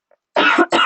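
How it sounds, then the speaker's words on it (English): A person coughs twice in quick succession, close and fairly loud. The first cough is longer and rougher, and a shorter second one follows right after a short silence. "A bit of cough."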